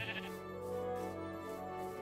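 Sheep bleat in the video game Minecraft, one drawn-out wavering bleat with a short higher call at the start, heard clearly without talk.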